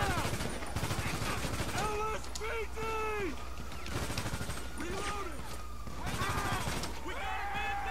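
Bursts of compact rifle fire from GTA V crack out repeatedly, with a steady game hum underneath. Someone talks between and over the shots.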